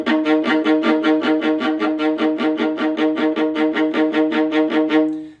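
Viola plays a fast Mozart Magic Flute excerpt in a half-off-string bow stroke: a steady, even run of about twenty-five crisp, slightly released repeated notes, loud and close, ending with a short decay.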